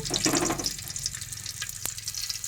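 Garlic hits hot oil in a pan, giving a soft crackling sizzle with scattered pops and spatters close by, fading into a quieter hiss with occasional sharp clicks.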